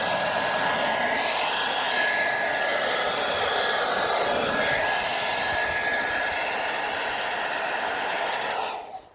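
A heat gun warms vinyl wrap on a rusty car front wing, blowing with a loud, steady whooshing roar that cuts off abruptly at the end. No one speaks.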